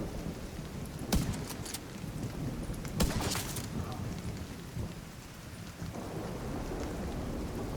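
Steady rain hisses in a video game storm, with two sharp thunder cracks early on and softer rumbles and drops afterward, all fairly quiet.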